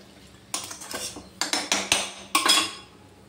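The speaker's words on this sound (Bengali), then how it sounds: "এবার নেড়ে করে ঢাকা দিয়ে দেবো" A spoon scrapes and knocks against a pan of potatoes with bottle gourd leaves and salt, giving several bursts of metallic clinks and scrapes close by, with no talking.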